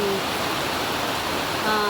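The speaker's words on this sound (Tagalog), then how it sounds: "Tubig papuntang ibaba." Water rushing steadily downhill during rain, a continuous broadband wash of flow with faint background sounds near the end.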